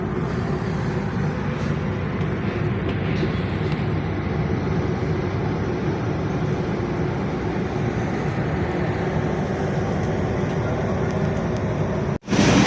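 Wijaya Kusuma train sits at or pulls into Kalisetel station, heard from inside as a steady loud rumble and hum of the carriage that ends in a brief sharp knock.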